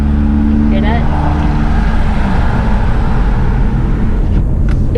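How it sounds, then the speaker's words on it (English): A 2018 Toyota Harrier 2.0T on the move gives a low, steady road and engine hum inside the cabin, smooth and continuous throughout. "let's just listen to the soundproofing in this car, because I think the soundproofing in this car is amazing"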